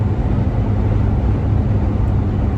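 Steady, loud low rumble of road noise inside the cabin of a 2021 Jeep Gladiator Overland EcoDiesel 4x4 cruising on the highway, a continuous dense drone with no breaks or voices.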